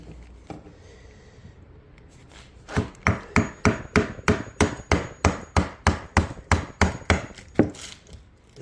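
A screwdriver works at the edge of a resin-poured bar table, tapped into the gap with about fifteen sharp, evenly spaced strikes that start quietly and grow to a steady rhythmic knocking, close by.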